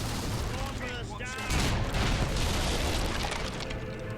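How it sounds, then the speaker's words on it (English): Mortar explosions in Fable III, a dense run of booming blasts and crackling bursts that grows louder partway through, with speech over the barrage. "Mortars"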